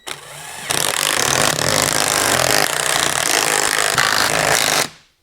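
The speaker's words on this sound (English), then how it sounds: "I need my Ryobi bolt drive-o-matic." A Ryobi power driver tightens gearbox bolts on a Trabant, letting out a loud, harsh, continuous rattling impact burst of about four seconds that stops abruptly, with no talking.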